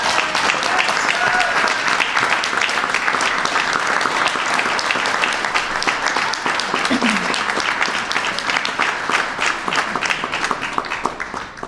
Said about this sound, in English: Can you all clap for these people?